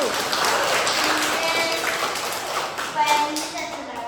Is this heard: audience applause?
yes